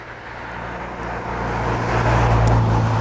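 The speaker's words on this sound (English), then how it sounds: "You can hear cars behind us." Road traffic on a road behind walkers on a country walk in the Chiltern Hills, Buckinghamshire: a steady low rumble of passing cars that swells gradually louder, with no talk.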